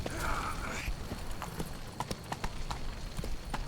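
Hooves of Roach, the horse in The Witcher 3: Blood and Wine, clip-clop in a steady trotting rhythm, moderately loud and close, following a brief vocal sound at the start.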